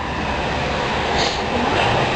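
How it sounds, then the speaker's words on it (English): Inside a sleeper train at Hanoi railway station, a steady, dense rumble and hiss fills the cabin evenly, with no distinct clacks or voices. "So this is the inside of the train."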